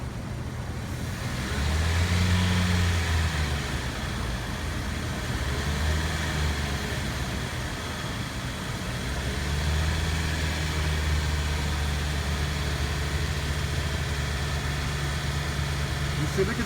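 A car engine in a shop for misfire testing with a non-functioning injector, running steadily at a raised idle around 1,500 RPM with a low continuous drone and slight swells, people talking nearby.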